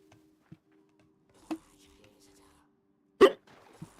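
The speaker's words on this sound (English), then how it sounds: "Hey, my hiccups are back, too." Hiccups from a player during a Hytale game session, a few short sharp bursts spaced irregularly, one much louder than the others, over a faint steady background hum.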